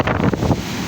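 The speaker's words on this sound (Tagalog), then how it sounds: "sobrang lakas ng dagat" Strong sea surf and gusting wind at a shoreline resort during rough weather, a loud broadband roar with wind buffeting the microphone, no voices.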